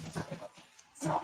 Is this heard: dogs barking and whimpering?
yes